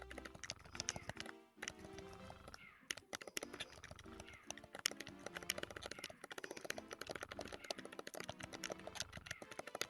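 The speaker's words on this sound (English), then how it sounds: "we can hear your keyboard a little" Computer keyboard typing, a fast run of faint clicky keystrokes heard through a live stream, with a short pause early on before the tapping resumes.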